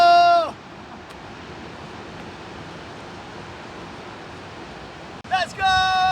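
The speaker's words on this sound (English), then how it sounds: "The waves are amazing." Ocean surf washes steadily onto a beach in Malta, a broad, even hiss of breaking waves heard close and alone for several seconds. Short bright chirping sounds briefly break in at the start and end.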